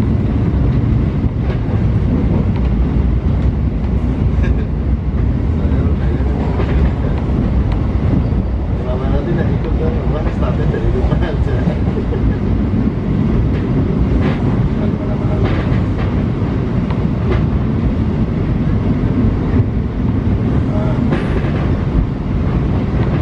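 Train rolling through the Kroya rail junction in Indonesia, a steady loud rumble of wheels and carriage noise with rhythmic clickety-clack over track joints and wind buffeting throughout.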